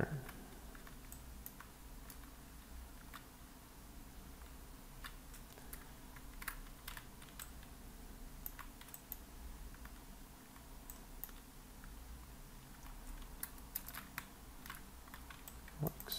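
Computer keyboard keys tapped in scattered quick clicks while entering a shortcut in 3D modelling software, the clicks faint and close over a low steady background hum.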